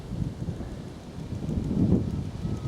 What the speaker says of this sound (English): Wind's picking up, as you may be able to hear.